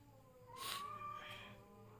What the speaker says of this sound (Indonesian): eh kucing ini ribut aja